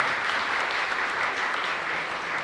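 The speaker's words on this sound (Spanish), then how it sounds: "Entonces, mi Alessandra, un fuerte aplauso para esa niñita de 40 días." Congregation applauding during a Catholic Mass at a parish church, a steady, dense wash of many hands clapping at once, loud and continuous for the whole stretch with no voices breaking through.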